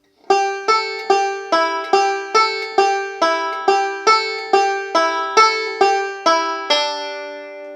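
A banjo picks a steady, even stream of bright plucked notes, about two per second, ringing close and clear before a final note decays.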